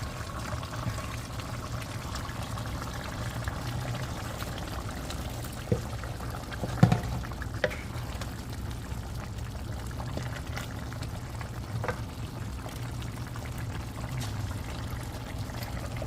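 Water poured steadily into a pot of potatoes and already-cooked curried meat, a continuous close trickle and splash with a few light clinks and no talking.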